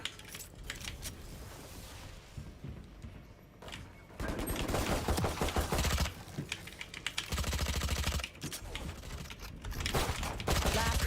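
Gunfire in a shooting video game crackles in bursts of rapid shots, with a dense volley in the second half, mixed with keyboard clatter and occasional voices.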